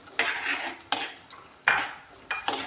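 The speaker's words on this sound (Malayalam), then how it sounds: "നമുക്കിതിലേക്ക് ഒരു ചെറിയ കഷ്ണം ഇഞ്ചി വട്ടത്തിൽ അരിഞ്ഞതും കൂടി ഇട്ട് ഒന്ന് ഇളക്കി യോജിപ്പിക്കാം" A utensil stirs sliced ginger into a fish curry without coconut in a pan, giving four distinct scraping clinks spaced unevenly, close and clear with no talk.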